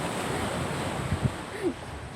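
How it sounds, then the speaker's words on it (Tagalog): Strong ocean surf roars steadily in a broad, wind-swept wash around rocks, with a couple of brief surges as waves break close by. "Lakas ng alon doon."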